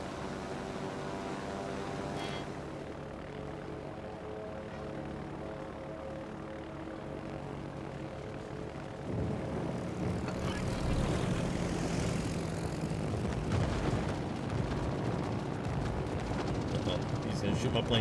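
Carrier plane engines droning in World of Warships, a continuous propeller hum that swells louder and rougher partway through, with battle rumble layered underneath.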